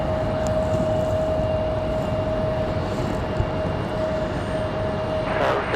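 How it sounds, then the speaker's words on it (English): Broadband jet engine roar of an Air France Boeing 777 departing Raleigh-Durham airport, a steady loud rumble holding throughout with a sustained tonal whine on top. "Nice departure for Air France at 777 flying back to Charles de Gaulle"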